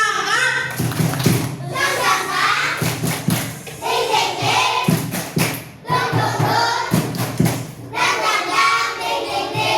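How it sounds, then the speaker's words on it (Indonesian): A third-grade class of children performs a rhythmic spirit clap, sharp hand claps in bursts mixed with their voices chanting along, close and lively. "Semangat, tepuk semangat."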